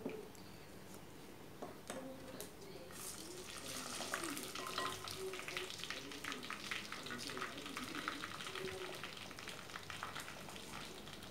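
Vadagam fries and crackles quietly in sesame oil inside a clay pot. The soft sizzle is joined by stirring sounds, and a voice talks over it throughout.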